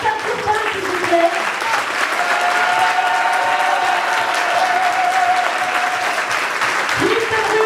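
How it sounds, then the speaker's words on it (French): A concert audience at a tribute evening in Treillières gives loud, sustained applause, a dense wash of many hands clapping steadily throughout, with voices and faint tones mixed into the crowd noise. "Merci d'applaudir très fort."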